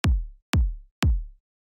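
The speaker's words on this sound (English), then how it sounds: "The first thing we've got is this kick, which sounds like this." Three punchy, clicky kick drum hits for futuristic chill house, evenly spaced about half a second apart, each a sharp click falling into a short booming low thump, dry and alone.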